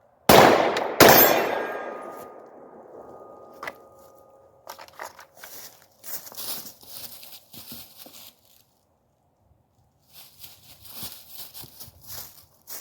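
Two sharp, loud gunshot bangs open a concealed-carry self-defense training demonstration, each followed by a long ringing decay, then scattered clanks, shuffling and handling noises.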